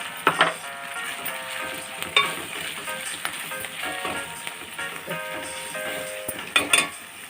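Chicken curry masala with turmeric and green chillies frying in a pan, a steady close sizzle broken by a few sharper clatters of a stirring spoon against the pot.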